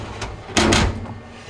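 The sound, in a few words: Gourmia French door air fryer oven doors closing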